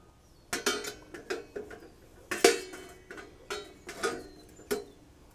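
A metal hot plate is fitted and clipped onto a CampQube folding steel fire pit, giving a run of sharp, close metallic clanks and taps in an uneven rhythm.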